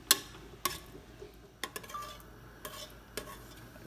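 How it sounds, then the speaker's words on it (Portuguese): Flour being stirred in a pan to break up lumps while making Madeira sauce for beef: a few sharp spoon scrapes and knocks against the pan, spaced irregularly over a quiet background. "Estou desmanchando as pelotinhas, ó. Vou deixar cozinhar um pouquinho a farinha."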